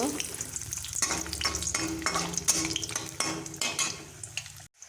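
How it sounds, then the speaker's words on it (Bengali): Bori lentil dumplings fry in hot oil in a kadai, a continuous close sizzle broken by rhythmic scraping and stirring strokes against the metal pan, with a few clinks, stopping abruptly near the end. "এবার আমি বড়িগুলো ভেজে নেব"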